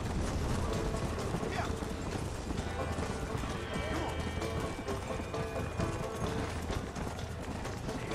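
Horse hooves clip-clop steadily in Red Dead Redemption, a brisk galloping rhythm heard throughout with game sounds layered around it, while a person talks over the top.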